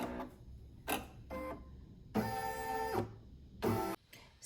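Single-needle or multi-needle embroidery machine stitching an in-the-hoop ID badge holder, heard as bursts of rapid mechanical whirring and tapping separated by short pauses, close and fairly loud with no talk.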